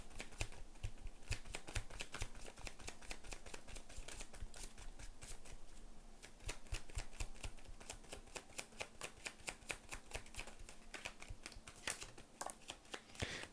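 Tarot cards are shuffled and flipped in a continuous run of crisp, rapid riffling and snapping card sounds, steady and close, with no talking.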